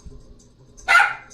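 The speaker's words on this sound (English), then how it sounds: "Some Eskies love to bark." A single sharp, high bark from an American Eskimo dog puppy rings out after a quiet pause, close by in a living room.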